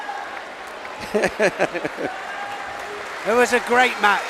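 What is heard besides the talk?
judo crowd applauding after match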